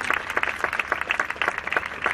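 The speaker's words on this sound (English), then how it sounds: "Give me a round of applause." An audience at the EQUITANA 2010 horse show applauds, giving steady, dense clapping that carries at moderate loudness throughout.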